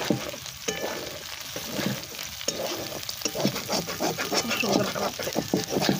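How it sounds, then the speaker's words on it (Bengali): Chicken pieces for restaurant-style Hakka noodles frying in a pan, with a steady broadband sizzle and bursts of stirring and scraping that grow louder toward the end. "চিকেনটা ফ্রাই হয়ে গেছে"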